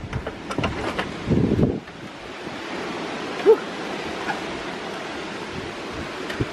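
Steady outdoor wind on a cold, blustery day, a continuous broad rushing roar buffeting the microphone throughout, with a brief low thump near the start and no talk.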